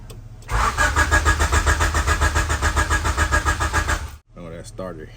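A starter cranks a turbocharged Honda H22 engine in a CB7 Accord that won't start, a loud rapid rhythmic churning for about four seconds that cuts off abruptly, followed by someone speaking briefly.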